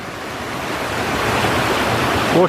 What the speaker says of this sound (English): came across this, a nice fast flowing stream